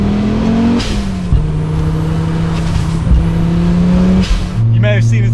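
A 500 HP Audi Sport Quattro engine roars loud and close, holding a steady high drone as it climbs toward 7,000 RPM, briefly dipping between pulls before surging again, with tire and road noise mixed in.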